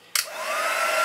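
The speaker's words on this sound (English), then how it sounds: "So, put the heat tool back on." An embossing heat gun used for papercraft starts up with a sharp whoosh and then blows a steady, rising hiss of hot air, close and loud, with no voices.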